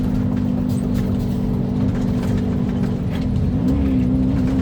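Car traffic on a road, a steady, fairly loud engine rumble with a low droning hum and the wash of vehicles moving continuously, no voices.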